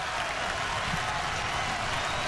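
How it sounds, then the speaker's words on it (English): Home fans at a Cubs versus Phillies baseball game in June 2011 stand and applaud. A steady wash of clapping and crowd noise fills the whole stretch without a break. "stand and applaud."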